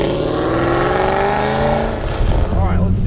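Modified 1995 Pontiac Firebird Formula pulling away, its engine loud and close, climbing in pitch through the gears with voices talking over it.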